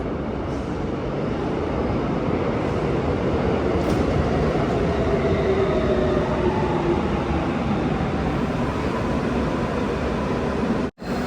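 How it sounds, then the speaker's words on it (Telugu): A subway train in Korea arrives at the station with a loud, steady rumble and rush of wheels on rails, holding for several seconds before it cuts off sharply at the end. "ట్రైన్ వస్తూ ఉంది"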